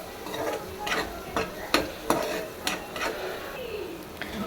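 Chili powder and green chillies being stirred in sizzling oil for an egg fry, with a steady fry hiss broken by several sharp scrapes of a spoon against the pan.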